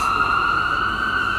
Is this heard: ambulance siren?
yes